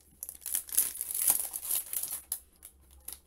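Crinkling of the plastic bags holding sprues and a sticker sheet from a Bandai Figure-rise Standard Masked Rider Decade model kit, close, irregular rustles and crackles handled continuously with short pauses.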